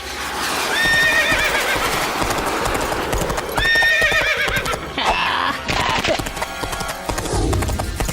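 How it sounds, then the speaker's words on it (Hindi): Cartoon horses gallop with a steady, close clip-clop of hooves, broken by several loud, high whinnies over a busy, dense backdrop. "अरे ये घोड़े आसमान में कैसे दौड़ रहे हैं?"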